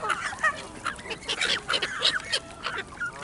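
Geese honk loudly and persistently close by on an evening in Skegness, many short calls tumbling over one another in a busy, irregular rhythm.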